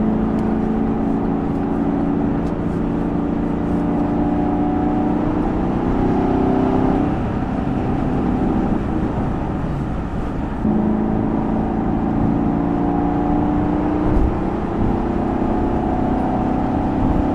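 A Chevrolet Camaro SS 1LE V8 drones steadily from inside the cabin as it downshifts and accelerates across highway lanes, with the engine tone dipping and rising in pitch around the shift.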